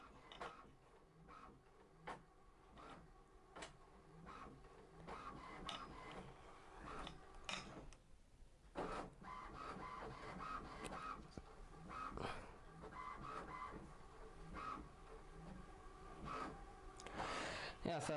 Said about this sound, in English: Now it's printing.